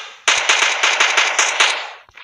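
A gun from a Minecraft mod fires a rapid burst of about eight loud, close shots in an even rhythm, followed by a couple of faint clicks as it stops.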